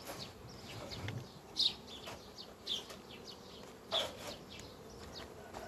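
Honeybees buzzing around an open hive in a colony being tended, a steady close insect drone with a few louder passes as bees fly near, no talk.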